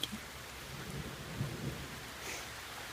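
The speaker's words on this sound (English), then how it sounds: "And it's thundering." Rain falls steadily outdoors as a soft wash while low thunder rumbles in the distance, swelling briefly mid-way and again near the end.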